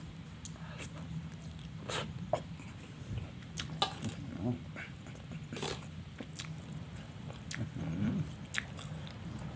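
Close, wet chewing and crunching of spicy Thai instant noodle salad with chili, tomato and pork sausage, steady mouth sounds with occasional louder bites.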